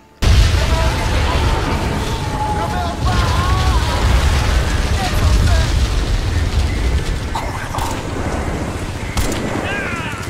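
Explosive charges go off in the Crysis video game with a sudden loud boom that swells into a long, heavy, roaring rumble, with scattered crackles and debris sounds on top.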